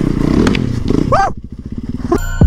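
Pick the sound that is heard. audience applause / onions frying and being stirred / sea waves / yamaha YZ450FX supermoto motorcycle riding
yamaha YZ450FX supermoto motorcycle riding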